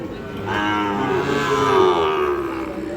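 A Sahiwal bull calf moos in a long, loud, drawn-out low call that swells and fades, with faint crowd noise of a livestock market in the background.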